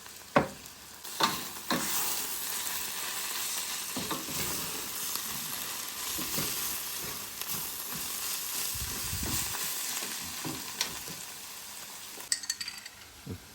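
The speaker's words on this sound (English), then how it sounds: "after stir frying the greens for about 10-12 minutes" Dandelion, kale, Swiss chard and spinach greens sizzling in a hot pan, a steady frying hiss broken by clinks and scrapes from stirring.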